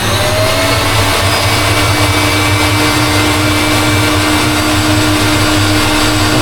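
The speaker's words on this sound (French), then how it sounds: "On va fouetter de nouveau pendant une dizaine de secondes" A stand mixer whisks meringue and egg whites at maximum speed, a loud, steady motor whir with a rapid whisk churn that runs without pause from start to finish, with no talking.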